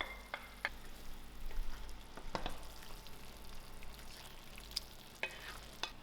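A Durban-style hot and sour tinned fish curry simmers in a pot, a faint, soft bubbling sizzle with occasional light clicks and scrapes, no talking.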